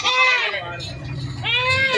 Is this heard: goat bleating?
yes